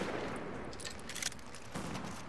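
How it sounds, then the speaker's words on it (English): Gunfire in the video game The Division, a dense, fairly loud stretch of rapid shots and crackling reports over continuous background noise. "That's a shotgun guy, isn't it?"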